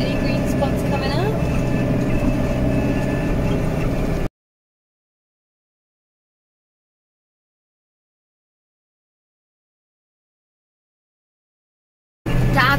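A tractor engine drones steadily while mowing hay at harvest, then cuts abruptly to silence for several seconds before briefly returning at the end.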